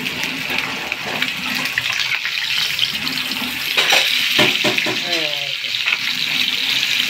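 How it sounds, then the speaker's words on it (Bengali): Fish sizzles as it fries in a pan in a home kitchen, a steady loud hissing spatter throughout, with faint voices in the background. "মাছ ভাজা হচ্ছে।"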